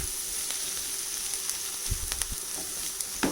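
Hand-mashed paneer is stirred into spinach in a hot pan for palak paneer bhurji, with a constant close sizzle and a few soft thumps and scrapes from the mixing.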